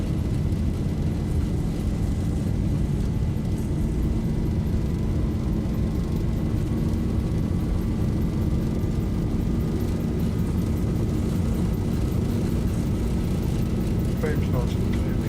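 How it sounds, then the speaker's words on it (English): Boeing 737 jet engines spooling at takeoff thrust in the Zibo mod flight simulator, a loud steady roar with a rising whine held throughout. "Takeoff thrust set."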